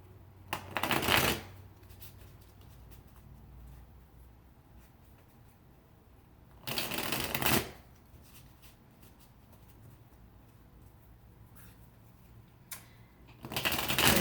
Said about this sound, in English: So let's pull a couple more cards here to add to this.